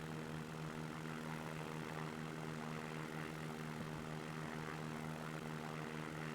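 A propeller airplane engine drones steadily in the X-Plane flight simulator, a constant close tone with unchanging loudness throughout and no voices.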